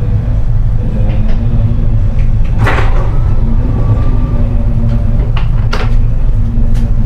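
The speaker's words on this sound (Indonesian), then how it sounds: "Pintu terbuka lah." A loud rumbling hum with a couple of sharp mechanical clunks and slides as the doors of a Malioboro Express passenger train open at Kutoarjo station, no speech.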